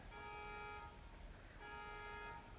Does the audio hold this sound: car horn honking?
yes